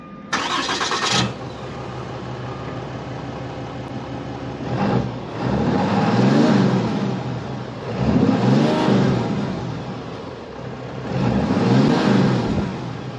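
A 5th-gen Ram with a 6.7 Cummins diesel and stock exhaust cranks and fires up, settles into a deep idle, then is revved several times in rising and falling surges, heard close by.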